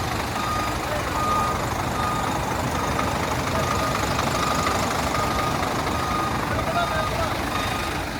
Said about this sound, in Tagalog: Pakinggan natin ang trademark na tunog ng makina ng Scania.